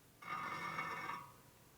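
A single bicycle spoke on a rigid bobber chopper is plucked to check tension: a sustained metallic ring, bright and steady for about a second before fading, close by.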